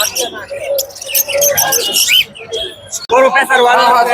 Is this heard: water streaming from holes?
no